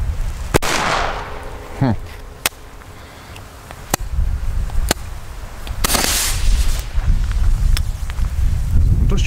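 Di Blasio Elio Cobra P1 firecrackers with friction heads, some from a faulty batch, bang outdoors in a string of sharp, loud single reports spaced a second or two apart over wind noise and rumble.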